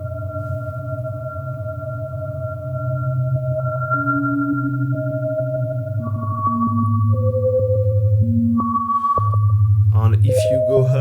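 Typhoon spectral effect plugin with tempo quantization set to full freeze, sustaining layered synthetic tones that step between held pitches, steady and close, with a brief noisy burst near the end.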